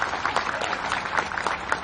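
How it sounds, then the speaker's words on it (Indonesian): A congregation at a mosque gathering claps for a deputy official, a brief burst of quick, uneven handclaps at moderate loudness. "Tepuk tangan buat Pak Wakil."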